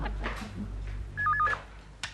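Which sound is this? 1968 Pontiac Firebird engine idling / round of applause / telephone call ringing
telephone call ringing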